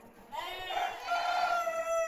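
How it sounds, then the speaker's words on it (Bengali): A golden chicken at a small mini zoo in Savar gives one drawn-out, wavering call, close and clear against quiet background noise. "সোনালী মুরগিও আছে।"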